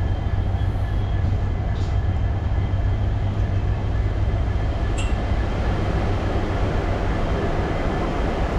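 A local passenger train between Siliguri and Malbazar, heard from inside the carriage, rumbles loudly and steadily the whole time, with one brief high squeal partway through and no talking.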